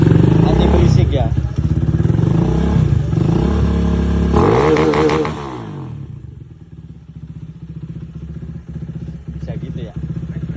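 A fuel-injected Honda CB motorcycle engine runs loud and close, revving with a heavy throaty roar before dropping to a steady, quieter, lumpy idle.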